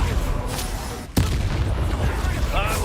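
Expelliarmus spell cast in the video game Hogwarts Legacy, a sharp booming blast that cuts in suddenly after a brief lull, followed by a rumbling tail and crackling magical effects over continuous battle noise.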